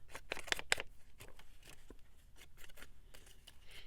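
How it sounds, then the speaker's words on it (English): Scissors snip paper for a collage, giving a quick run of crisp, close cuts that slow into scattered snips and rustles, with no voices. "I need scissors."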